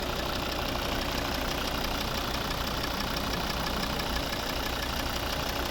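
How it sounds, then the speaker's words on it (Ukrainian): A 2011 Volvo V60 with a 2.0 D3 five-cylinder diesel engine and automatic gearbox runs steadily at idle, producing a continuous, even mechanical hum with no talk over it. "П'ятициліндровий, надійний, потужний двигун."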